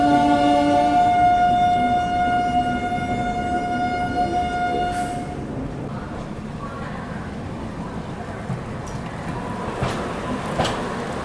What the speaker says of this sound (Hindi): शायद वो हावड़ा जबलपुर शक्तिपुंज है।